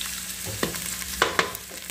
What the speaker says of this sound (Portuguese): Eu vou colocar o torresmo, gente, pra fritar.